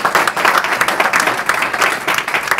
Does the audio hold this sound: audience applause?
yes